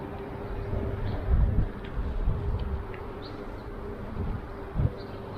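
Honey bees buzz around an open beehive during an inspection, a steady low hum with a few louder swells as bees pass close.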